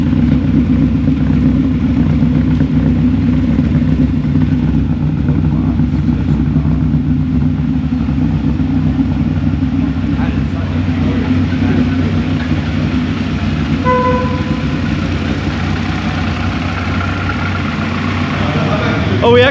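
A TVR sports car engine runs at a steady idle through its exhaust, a close, continuous low rumble that lasts the whole stretch, with faint voices now and then.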